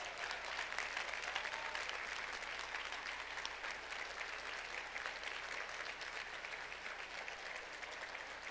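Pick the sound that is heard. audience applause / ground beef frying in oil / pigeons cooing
audience applause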